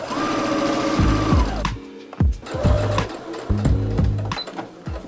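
A sewing machine stitches sleeves onto a dress bodice in bursts, its fast mechanical whirr starting and stopping several times at close range with clunks between runs, no talking.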